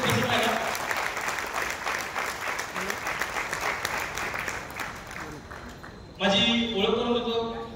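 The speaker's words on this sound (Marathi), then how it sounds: "तर एकदा जोरदार टाळ्या होते तुमच्या सोबतसाठी." Training attendees at an officers' meeting give a loud, sustained round of clapping that lasts several seconds, then a voice starts speaking as the applause ends.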